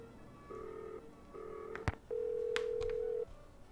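Telephone keypad dialing in a Nancy Drew video game: two short touch-tone beeps followed by a longer tone, with a click in between, heard alone and clearly in the foreground.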